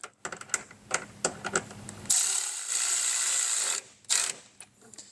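A T40 Torx bit ratchets as a bolt is tightened on a Rokblokz fender kit on a 2024 Polaris RZR XP 1000, a string of quick close clicks followed by a short whirring burst, then a few more clicks.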